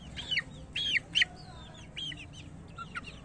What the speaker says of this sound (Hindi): मैं आज आप लोगों को देसी मुर्गे के बच्चे बता रहा हूँ